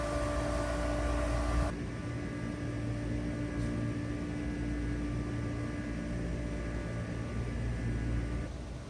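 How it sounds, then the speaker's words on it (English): A steady mechanical hum of aquarium water pumps drones on without a break, broad and even, with a faint tonal whine running through it. "that hum you hear are the water pumps that support this great aquarium."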